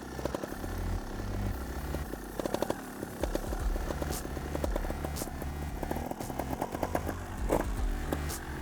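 A trial motorcycle engine putters and revs unevenly nearby, low throbbing with rising and falling bursts of throttle while turning slowly, plus occasional clattering from the bike.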